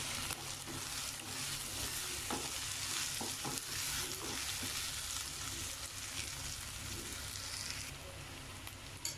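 Finely cut green chillies are stirred into a sizzling pan of Indian-style masala pasta, a continuous, quiet frying hiss broken by the soft scrape and tap of a spoon against the pan.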